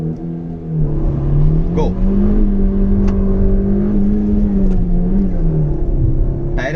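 A Toyota Urban Cruiser accelerates from 0 to 100, its engine a loud close drone that rises slightly and holds, with brief voices over it at the start.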